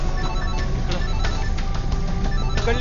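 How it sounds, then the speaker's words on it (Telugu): A telephone rings loudly and continuously, a dense, steady electronic ringing tone that fills the short moment with no voices over it. "అరే ఏంటి ఇక్కడ ఫోన్ రింగ్ అవుతుంది సౌండ్"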